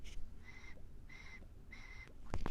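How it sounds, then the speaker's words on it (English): A tobacco pipe whistles while being smoked, a soft, high whistle sounding three times in a slow, even rhythm, each lasting about half a second, followed by a brief close rustle. "it whistles when I'm smoking it"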